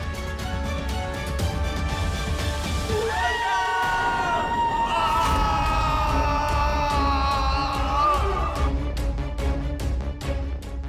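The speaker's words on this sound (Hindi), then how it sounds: "बाहर से किसी की चीखने की आवाज आ रही है।" A loud, drawn-out yell rises over a noisy background of shouting voices and music-like tones, sustained for several seconds.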